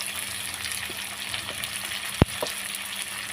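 Spices and salt sautéing in a pan for a hilsa fish curry with taro, a steady close frying sizzle throughout and one sharp utensil knock near the end.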